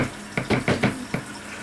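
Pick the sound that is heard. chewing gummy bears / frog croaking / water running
water running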